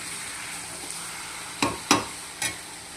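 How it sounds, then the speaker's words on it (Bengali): Red amaranth greens frying dry in a pan, a steady close sizzle broken by three sharp scraping stirs near the end, no voices. "লাল শাক ভাজা"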